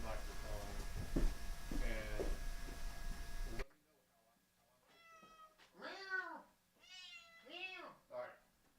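A cat meows repeatedly, several rising-and-falling cries close by, following a stretch of muffled background noise.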